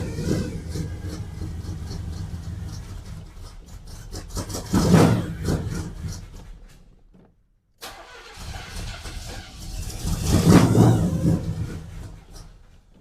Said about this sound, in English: So it was just running off the carb clean that I sprayed in the carburetor.